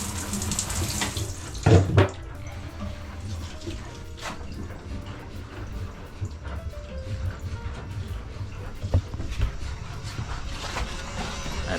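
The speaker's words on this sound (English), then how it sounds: "And that's it, the shower is working." Water from a narrowboat shower runs steadily and splashes in a small bathroom, a continuous close hiss broken by a few louder bumps and splatters.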